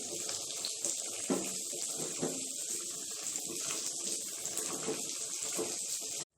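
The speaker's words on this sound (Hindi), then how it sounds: "थोड़ा सा हम पानी मिलाएंगे, मसाला हमारा जलना नहीं चाहिए।" Water pours steadily into a pan of chicken masala cooking with yogurt, a continuous rushing hiss holding even for several seconds before stopping abruptly. No voices.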